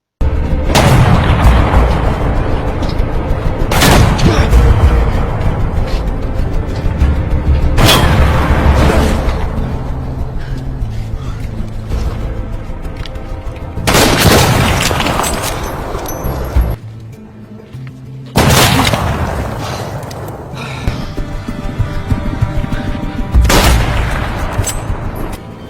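Heavy gunfire and repeated booming explosions from a World War I battle scene in a war film, loud and dense for most of the stretch, with sharp blasts recurring every few seconds and a brief lull near the end.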